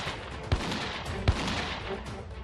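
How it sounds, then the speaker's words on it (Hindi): Gunfire from militants during a security operation by army, police and CRPF forces: two sharp low thumps about a second apart over a steady noisy background, moderately distant. "सरेंडर की अपील अनसुनी कर आतंकी फायरिंग करने लगे"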